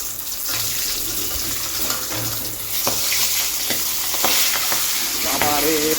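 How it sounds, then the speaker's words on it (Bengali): Fish, including bata, fry in a pan on a rainy day, giving a loud, steady sizzle broken by sharp crackling pops and spits of oil, close by with no talking. "বৃষ্টির দিনে এদিকে মাছ ভাজা চলছে"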